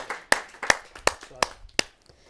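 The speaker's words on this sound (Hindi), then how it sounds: "जोरदार तालियों से उनका स्वागत करते हैं" Scattered hand claps from a kavi sammelan audience welcoming a poet from Delhi to the stage, six or so distinct sharp claps in an uneven rhythm, close and fairly loud, fading out.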